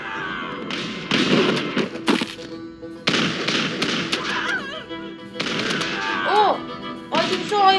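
Gunshots in the Totally Accurate Battle Simulator video game, Franco-Prussian War battle, sharp repeated bangs and thuds in clusters amid chaotic game noise, with a voice speaking over parts.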